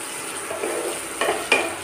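Spatula stirring half-cooked potato and tomato pieces in a hot pan, a soft steady sizzle with a couple of sharper scraping clicks near the end, close and alone without talk.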